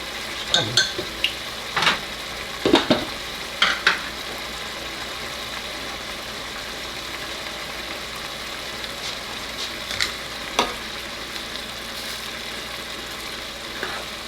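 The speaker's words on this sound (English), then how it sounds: "So we're cooking some Spanish rice." Spanish rice cooks in a pan, giving a soft steady sizzle broken by several sharp scraping and clinking stirs, mostly in the first few seconds and again later, close by.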